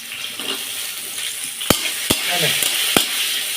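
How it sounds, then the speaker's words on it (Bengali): Papaya pieces go into a pan of frying potatoes, bringing up a loud, close sizzle. A spoon clacks sharply against the pan three or four times and scrapes as the pieces are stirred, with no talking. "এবার দিয়ে দেবো পেঁপেগুলো।"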